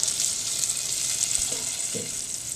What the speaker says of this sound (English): I'm going to add in the 2 tablespoons of butter